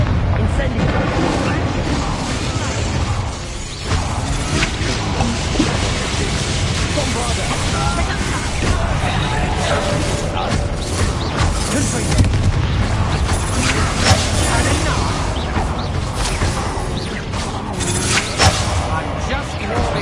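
Fiery Confringo and Incendio spell blasts in the Hogwarts Legacy video game, a dense, continuous roar of booming impacts and crackling bursts that stays loud throughout, with a voice speaking over the din.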